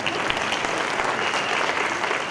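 Audience at a CQUniversity graduation ceremony in Mackay claps steadily for a graduate, a dense and even burst of applause that holds at the same level throughout.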